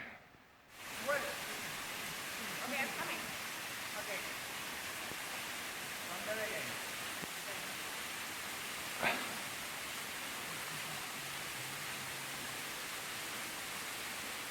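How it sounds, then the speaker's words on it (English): Steady, soft rushing water noise from Douglas Falls below, on the Blue Ridge Parkway, North Carolina, with a few faint thumps and rustles nearby. "I can hear the waterfall down below."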